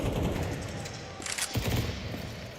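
Rapid rifle gunfire sprayed through smoke in Counter-Strike 2 at a major esports match, a dense burst of shots layered over a constant roar of game sound and crowd.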